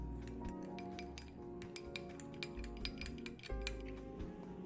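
Egg yolk, milk and cooking oil stirred together in a bowl, with rapid, steady clinking of a utensil against the bowl in quick bursts over a low background hum.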